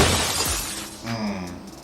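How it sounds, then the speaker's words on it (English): A huge slab of ice flies off a U-Haul truck and smashes a car windscreen on a Tennessee highway at around 80 mph, a loud sudden crash and shatter. Road rumble continues afterward. "A huge slab of ice flew off the top of that U-Haul truck and smashed the poor driver's windscreen."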